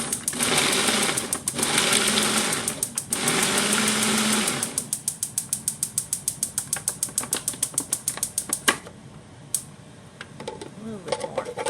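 Food processor pulsing chunks of eggplant for zacusca, loud whirring bursts that give way to a rapid rhythmic chopping clatter, with a steady background hiss from a stuck stove igniter.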